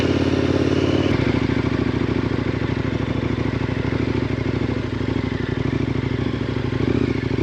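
A KTM 1090 Adventure motorcycle rides along a lakeside track, its engine droning steadily under heavy rumbling wind and rattling, loud and continuous throughout with no voices.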